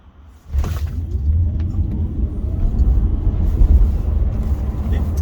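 A Tesla Model 3 Performance electric car pulls away hard from a traffic light, its sudden onset building into a loud, continuous road and drivetrain rumble that grows stronger throughout.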